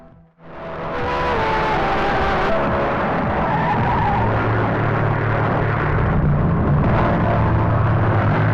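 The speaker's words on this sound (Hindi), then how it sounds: "मेरी गाड़ी आ गई।" A car rushes in and skids to a stop with a loud, sustained tire screech and engine rumble, close by, after a brief quiet moment, in a Hindi-dubbed action film scene.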